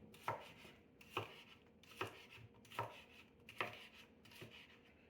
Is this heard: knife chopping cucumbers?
yes